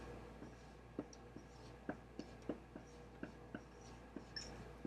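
Marker or chalk writing on a classroom board during an algebra lesson on two-step equations, a string of faint, sharp taps and short strokes spaced irregularly over quiet room tone.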